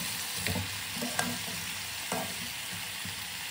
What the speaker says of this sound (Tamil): நல்லா மிக்ஸ் பண்ணி விட்டுறணும், அப்போ தான் உப்பு எல்லா இடத்துலையும் சேரும்.